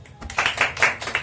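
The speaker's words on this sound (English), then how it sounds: "So clap for team A." A few sharp, rhythmic claps ring out in a classroom as students applaud the winning team A of an English words ladder vocabulary game, close and fairly loud over quiet room noise.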